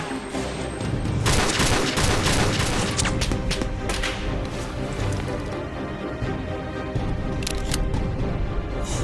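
Stormtroopers fire blasters in a video game, a dense loud fusillade of gunfire and booming hits rolling continuously through the clip, with explosive bursts and no clear speech over it.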